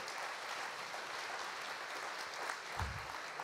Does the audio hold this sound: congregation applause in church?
yes